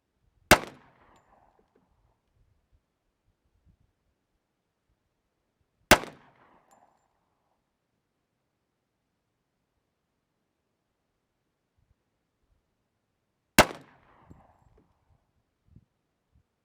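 Three sharp, loud gunshots from a 1911 pistol in .45 ACP, spaced several seconds apart, each a crisp crack with a short ringing tail and only quiet pauses between.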